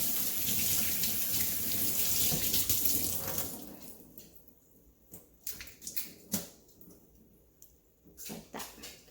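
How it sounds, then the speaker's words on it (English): Tap water runs steadily over a Dungeness crab for the first few seconds, then cuts off, leaving scattered close clinks and small knocks of handling in a quieter room. "You can rinse it if you like. Rinse it out clean."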